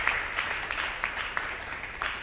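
A small audience at a local business and workforce development event gives a faint round of applause, a handful of sparse, distinct claps spaced across a couple of seconds.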